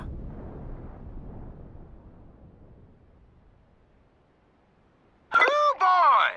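A bomb in the video game Just Cause 3 goes off as a long rumbling explosion that decays slowly over several seconds, loud at first and fading to near quiet before a voice cuts in.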